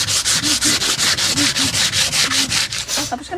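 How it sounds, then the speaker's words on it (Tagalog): Sandpaper scrubs over wood during work on a boat. Fast, steady back-and-forth strokes, about five a second, sound close and fairly loud throughout. "Tapos ka na ba magliha?"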